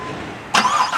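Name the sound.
Corvette C7 engine starting by remote start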